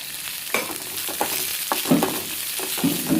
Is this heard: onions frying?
yes